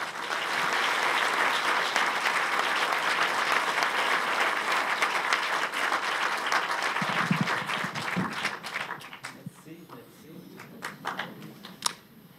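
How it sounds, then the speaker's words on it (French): Loud, sustained applause from a conference audience for Hubert Reeves fills most of the clip, then thins into scattered claps with some shuffling as it dies down. "Merci de l'applaudir encore."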